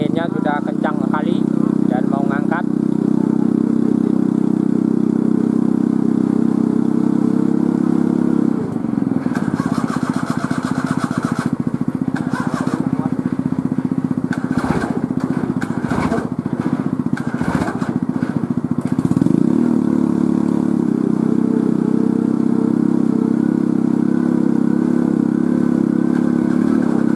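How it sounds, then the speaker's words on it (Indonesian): Car engine mounted on a homemade helicopter built from scrap parts, running loud and close with a steady droning roar, dropping briefly in the middle amid clattering bursts before returning to full power; voices are faintly heard. "Nah ini mau mesin mobilnya hidup, guys."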